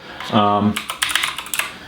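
Typing on a Keychron K4 keyboard: a short burst of several quick, close key clicks at an uneven rhythm, preceded by a brief tonal beep.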